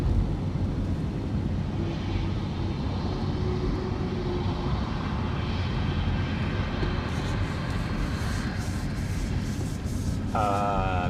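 An ABX Boeing 767 freighter in DHL livery at East Midlands Airport, a faint, steady distant engine roar running throughout, with a short tonal chirp near the end.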